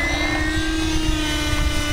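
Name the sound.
helicopter flying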